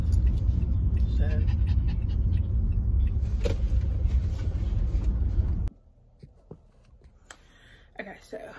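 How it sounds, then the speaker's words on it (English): A dog pants and gives a few barks inside a parked car with the windows down, close and moderately loud with a low rumble at first, then quieter with sparse sounds after the noise drops away; someone talks over it. "we let the windows down for Macy, and Macy literally barks at everybody that walks by."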